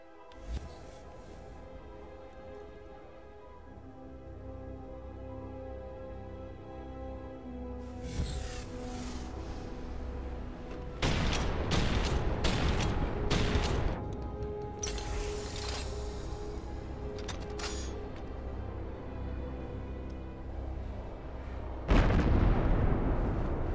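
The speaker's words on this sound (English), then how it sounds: "shoot some fireworks." Fireworks launched in Starfield burst in several loud bright bangs with sizzling crackle, arriving in separate volleys over a sustained musical background hum.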